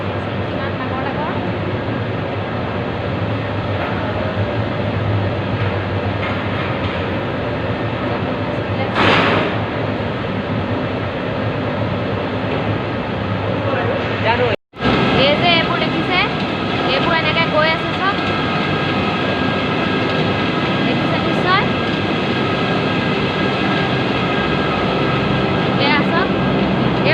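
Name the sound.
large tea factory machines running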